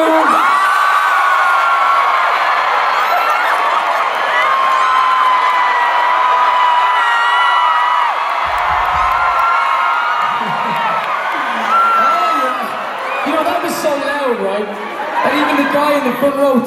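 A concert crowd at a show in Toronto screams and cheers loudly and continuously, with high shrieks and whoops rising and falling throughout.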